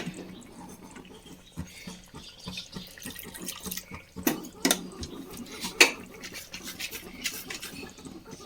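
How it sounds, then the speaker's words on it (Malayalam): Water trickles and splashes intermittently into a pot of vegetable curry, with a few clinking utensil sounds and scraping; fairly quiet, no talking. "കുറച്ചുകൂടി വെള്ളം ഒഴിച്ച്"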